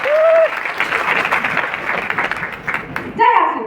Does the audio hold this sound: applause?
yes